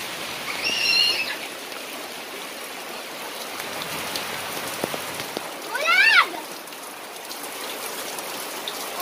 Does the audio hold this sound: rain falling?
yes